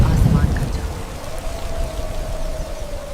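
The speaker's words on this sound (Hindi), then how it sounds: "तभी अचानक आसमान गरजा" Thunder rumbles low and heavy over loud, dense rainfall in a dramatized storm, a deep boom swelling at the start before settling into a steady pouring hiss, with a faint tonal whine drifting through.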